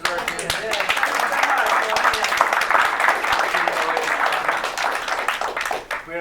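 Audience applause closing a discussion on the Delaware Coastal Zone Act: a room of people clapping steadily at close range, fading slightly at the end, with speech mixed in over it.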